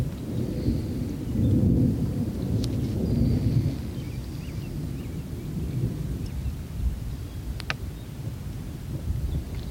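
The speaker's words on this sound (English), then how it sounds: "definitely some rain in there" Steady rain with low rolling thunder, heard at sea on a sailing trip near the Isle of Shoals, broad and continuous throughout with gusts of wind on the microphone and no talking.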